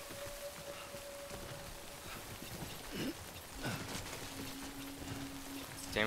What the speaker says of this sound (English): Stop raining, please.